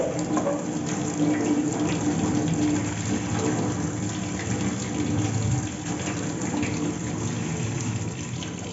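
Tap water runs steadily into a sink while four potatoes are washed by hand, a continuous close splashing rush that fills the whole stretch, with no talking.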